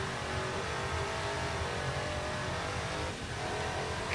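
Honda Odyssey minivan engine in Forza Motorsport 7, a steady, loud drone with a gentle rise in pitch, like continuous revving under load, alone with no talk.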